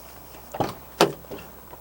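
The door of a 2011 Ford E150 cargo van gives two short clunks close by, a latch click followed by a firmer thump, then a faint rattle.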